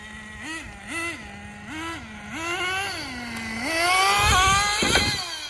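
A HotBodies Tornado nitro RC boat engine runs near idle. Its small high-pitched buzz rises and falls in quick blips, then smooths into a steadier, slightly louder drone with some rough bursts toward the end. No one talks.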